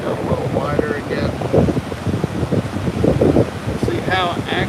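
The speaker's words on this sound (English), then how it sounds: "See how active the water is today." Ocean waves surge and wash along the shore at a beach while steady wind buffets the microphone, a continuous rough roar with voices talking faintly over it.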